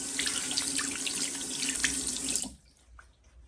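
A kitchen or bathroom tap runs steadily as oil is washed off the hands, a close, bright splashing stream for about two and a half seconds before it is shut off, leaving near silence.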